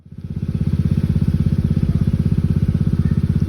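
A small engine-driven water pump runs in a rice field, a loud, close, steady chugging with a fast even pulse that holds for the whole stretch, no voices.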